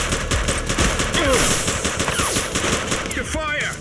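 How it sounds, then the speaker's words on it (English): Rapid gunfire in The Precinct police video game, a loud, dense burst of shots repeating throughout, with brief shouting near the end. "Shots fired!"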